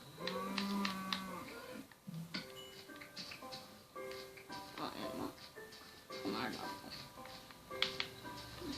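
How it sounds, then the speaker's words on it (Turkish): A Minecraft cow moos a few times amid game sounds, with a person talking over much of it. "Aa inek."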